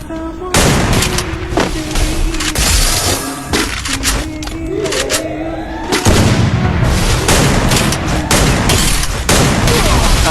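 Video game gunfire from a sniper rifle and shotgun, with dense bursts of shots and booms that come thick and loud across the stretch, rising again in a heavy barrage after a brief dip midway.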